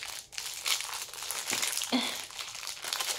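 Sticky tape being peeled off candy packaging, a steady close crinkling and tearing rustle of plastic wrapper that runs for about three seconds with small crackles, no talking.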